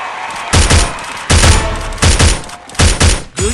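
A Winchester gun fires in a video game, several loud, close bursts of gunfire in quick succession separated by brief gaps.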